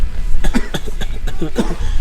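A quick run of harsh, rapid coughs on a Himalayan trek in Nepal, close and loud, one burst after another with no pause.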